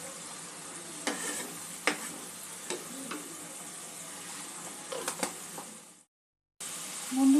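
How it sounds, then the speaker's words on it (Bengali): Onion, ginger and garlic fry in a pan with a soft continuous sizzle, punctuated by a few sharp clicks and scrapes of stirring, then a short silence before the sizzle returns louder. "পেঁয়াজ আদা রসুনের কাঁচা গন্ধটা চলে যাওয়া পর্যন্ত একটু ভেজে নেব"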